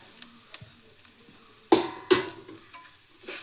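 Grated coconut stirred and frying in a pan for radish huli, with a steady low sizzle broken by two sharp scraping strokes of the spoon midway and another near the end, no voices.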